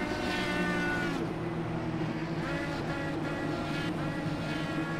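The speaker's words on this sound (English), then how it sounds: "You hear a lot of people revving their engines" Distant racing engines drone and hum together at a fairly steady level as drivers rev to burn off fuel at an Indy Elite Series race, muffled and continuous, with no talking.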